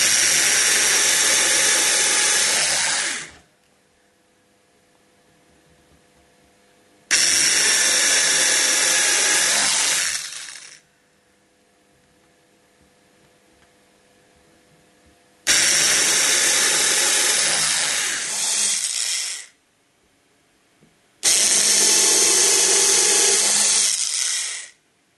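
A small power drill bores 0.8 mm holes in a Herpa Scenix airport diorama base, running in four loud, sustained whirring bursts of about three to five seconds each, separated by near-silent pauses.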